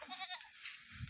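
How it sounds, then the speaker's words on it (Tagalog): Goats on a farm bleat in a few quick wavering calls close by, followed by a rustling, scraping noise at the end. "Ang kambing namin na malalaki."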